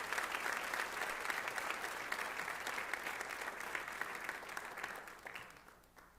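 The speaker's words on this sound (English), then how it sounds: "Round of applause, please." A crowd applauds at a Martin Luther King Jr. celebration as speakers are welcomed to the stage, steady dense clapping from a large room that tapers off in the final second.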